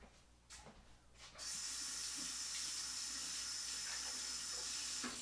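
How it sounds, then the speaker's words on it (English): Hands being washed under a running kitchen or bathroom tap: after a few quiet handling sounds, a steady, close hiss of flowing water starts and continues with light splashes. "Sorry, washing my hands real quick."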